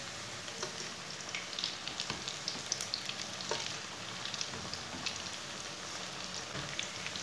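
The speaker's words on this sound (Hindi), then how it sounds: "अब इसे फ्राई कर लेंगे।" Onion pakoras frying in hot oil over a medium flame, a steady close sizzle with soft bubbling crackles and scattered pops throughout.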